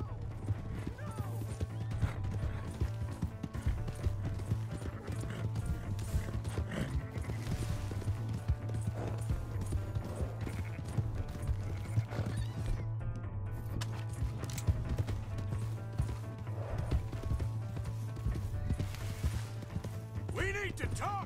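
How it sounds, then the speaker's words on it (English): Horse hooves clip-clop steadily in the Red Dead Redemption 2 video game, quiet and continuous under shouting voices, with occasional clatter mixed in. "Hey, that's my horse!"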